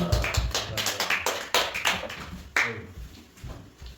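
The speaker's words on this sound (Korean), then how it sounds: "하나님께 영광의 박수" A church congregation claps in praise during a Korean worship service, with a scattered burst of sharp hand claps that thins out toward the end and comes with no talking.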